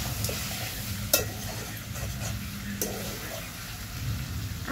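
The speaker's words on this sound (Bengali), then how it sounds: "আর এখন দেখো ভালো করে আমি নাড়িয়ে আর কি মাংসটা কষাচ্ছি।" Pork curry meat being stirred and fried in a pan, a steady close sizzle with a few sharp scrapes of the spoon against the metal.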